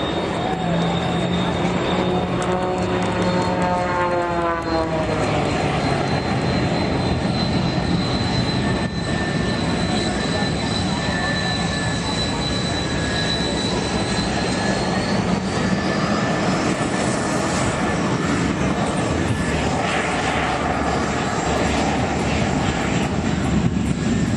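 An aerobatic propeller plane's engine drones loudly and continuously overhead at the Reno Air Races, its pitch rising and falling as it climbs and dives, with crowd noise and an announcer's voice underneath.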